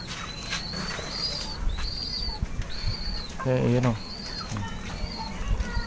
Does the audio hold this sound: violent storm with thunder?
no